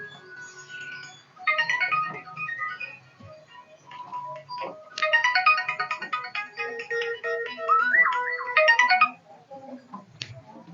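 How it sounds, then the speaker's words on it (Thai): A melodic electronic phone ringtone plays in repeating bright phrases, fairly clear and close, with faint background sounds beneath. "มีเสียงเรียกเข้า"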